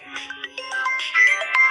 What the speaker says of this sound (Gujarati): મને એક ફોન આવી ગયો